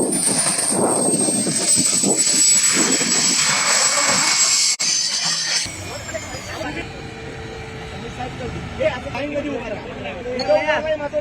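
Loud whirring helicopter engine roar with rushing wind fills the first half as it lands in Akkalkot, then gives way to a noisy crowd with voices chattering nearby.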